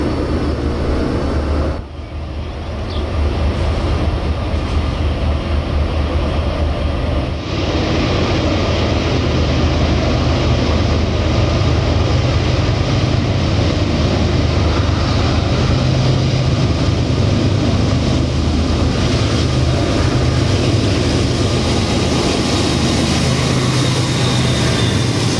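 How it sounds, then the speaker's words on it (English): A Conrail and Norfolk Southern freight train rolls through the Alleghenies in a loud, continuous roar and rumble of wheels and engines that fills the whole stretch, with rail fans gathered trackside and no speech. "The train blew its whistle, greeting a bunch of rail fans that have assembled."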